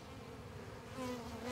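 A dense, steady buzzing of many bees swarming close by on a tree, a continuous droning hum that swells slightly louder toward the end.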